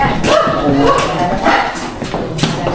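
A dog barks and yips in short bursts close by, with people talking over and around the barking.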